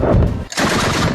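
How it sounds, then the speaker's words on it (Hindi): Anti-aircraft guns in Kabul fire in continuous rapid bursts during an air strike, a loud, dense, close rattle of gunfire that breaks briefly and then resumes. "हमला होते ही अफगानिस्तान की एंटी एयरक्राफ्ट गनें एक्टिव हो गईं और लगातार फायरिंग होती रही"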